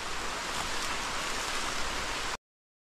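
Rain falling steadily during an outdoor honey harvest, a dense even hiss of drops on surfaces that holds at one level, then cuts off abruptly.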